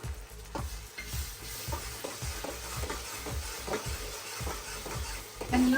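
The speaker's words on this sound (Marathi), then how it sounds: "टोमॅटो पण चॉपरमध्ये बारीक केला होता ना तोही याच्यामध्ये टाकून चांगले याला पण फ्राय करून घेते तेलामध्ये" Chopped tomato fries in hot oil in a pan, a steady close sizzle broken by repeated scraping stirs of a spoon through the pulp, with no one talking.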